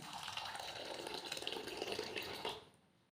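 Broken wheat being washed in a bowl of water, a soft continuous swishing and sloshing that stops abruptly at the end, faint and close.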